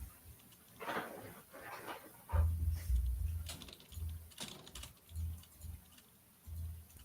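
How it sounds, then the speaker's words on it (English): Typing on a computer keyboard during a live market show, irregular bursts of soft key clatter repeating throughout at moderate distance, with no talk over it. "He is just typing away."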